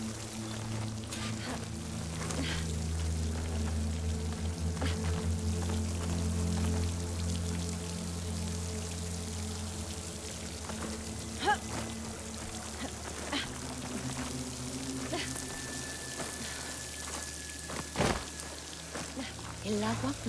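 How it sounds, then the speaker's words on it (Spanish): Water falls down a rock wall beside a waterfall in the video game Horizon Forbidden West, a soft, steady trickle and patter. A low hum sits underneath, a voice speaks, and scattered clicks and knocks occur. "Hay agua cayendo de ese muro."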